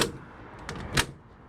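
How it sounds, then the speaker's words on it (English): A 1932 Ford Tudor sedan door swings shut with a sharp, close slam after a softer latch click, set against faint outdoor background noise. "Watch this door shut."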